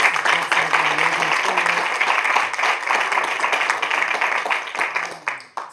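Audience applause at a jazz concert featuring a Baltimore-area vocalist, a steady wash of clapping that holds for several seconds before tapering off, with some voices mixed in.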